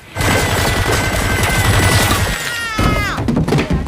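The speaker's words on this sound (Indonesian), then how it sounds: "Wednesday pun menggunakan jari pasukan tersebut untuk menggunakan pistol demi menyelamatkan dirinya" A pistol fires in a dramatic film scene as a rapid, dense burst of shots, loud and close, followed by a few scattered bangs and a sweeping tonal sound at the end.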